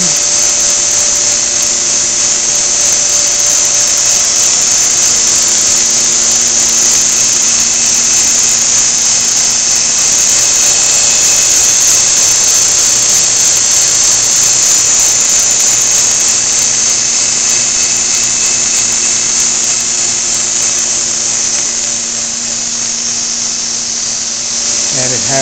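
A Bell & Howell MailStar 350 envelope inserter for 9x12 envelopes runs with a loud, steady mechanical whir and hum, a constant drone with faint tonal lines that holds unbroken for the whole stretch.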